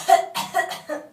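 A person gives a hard, forceful cough imitating choking during a motor speech exam, a few sharp close bursts in quick succession.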